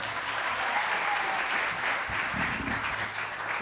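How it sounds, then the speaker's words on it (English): A film awards audience applauds in a dense, continuous clapping that holds steady and loud throughout, spreading across a large hall. "Another round of applause, please."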